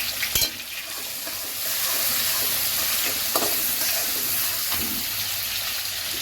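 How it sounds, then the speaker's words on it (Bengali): Bay leaf, whole garam masala and chopped onion fry in hot oil, a continuous loud sizzle with occasional spoon taps and stirring scrapes against the pan. "তেজপাতা, গোটা গরম মশলা, পেঁয়াজ কুচি,"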